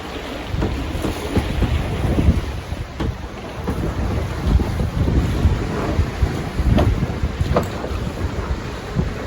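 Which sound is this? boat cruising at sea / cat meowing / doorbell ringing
boat cruising at sea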